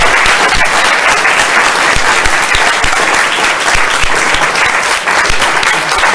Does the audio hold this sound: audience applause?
yes